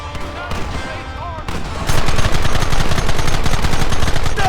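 Rapid gunfire from a Red Dead Redemption shootout, sparse shots at first, then a loud, dense continuous volley of overlapping rounds from about two seconds on.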